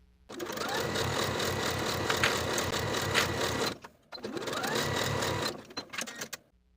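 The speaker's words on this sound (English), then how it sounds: "Sew or serge this seam with a 3/8 inch seam allowance" A sewing machine or serger stitches a shorts crotch seam in two steady, close runs of rapid mechanical whirring, split by a brief pause and ending with a short sputter.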